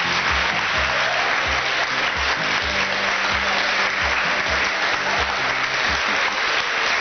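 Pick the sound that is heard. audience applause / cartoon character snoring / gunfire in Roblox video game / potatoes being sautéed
audience applause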